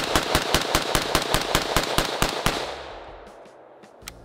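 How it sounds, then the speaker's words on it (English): Rifle fitted with a muzzle brake or flash hider fires a rapid string of about a dozen loud sharp shots in quick even rhythm, then a fading echo and a couple of faint shots further off. "Go ahead and shoot a couple of times."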